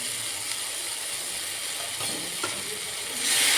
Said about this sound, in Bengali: এটা মশলা কাঁচা গন্ধে না যাওয়া অবধি একটু কষাবো